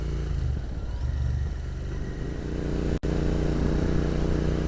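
A Royal Enfield Continental GT motorcycle rides along Route 311 in Virginia, its engine giving a continuous loud rumble with a brief dropout near the end.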